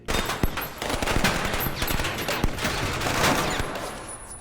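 Rapid gunfire from The Dark Knight strikes the armored Batmobile, with dense bursts of automatic shots and sharp single cracks rattling continuously amid loud action-film noise.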